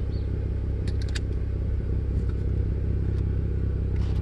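A BMW car engine strains under load while charging a supercapacitor bank, a steady, loud mechanical drone running throughout with a few light clinks and clatters on top.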